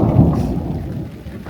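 A deep, low rumble of a volcanic eruption in Guatemala rolls steadily like distant thunder, heavy and continuous with no voices.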